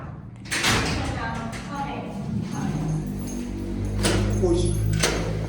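A door in a Brooklyn apartment building is shut again, with a few dull thumps and knocks of the door and its hardware, close by and mixed with room noise and brief voices.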